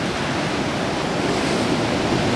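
Ocean surf at a beach break, loud continuous roar of breaking waves mixed with wind noise on the microphone, no voices.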